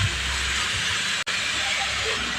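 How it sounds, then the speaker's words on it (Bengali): Bottle gourd sautéing with spices in a pan gives a steady, even hiss that drops out for an instant midway, with no talk. "লাউটা একটু হালকা করে মশলার সঙ্গে কষিয়ে নিতে হবে।"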